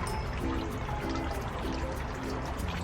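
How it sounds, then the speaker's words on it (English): A Philodendron cutting is set into water, giving a soft, quiet pouring and trickling wash that runs steadily for a few seconds with no speech. "I'll stick this section in water and see what happens"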